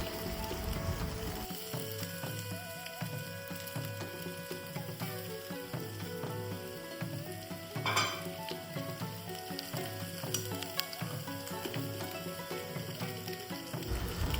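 Onion and curry leaves sautéing in a pan for a prawn roast, after chilli paste has been fried; a steady close sizzle with occasional scraping stir and clicking, no talk.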